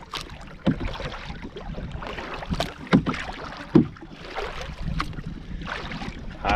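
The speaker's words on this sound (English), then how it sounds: "Every so often there's a wee squall coming down the loch" Gusty squall of wind blowing down a Scottish loch, buffeting the microphone in bursts, with paddle knocks and splashes from a canoe mixed in.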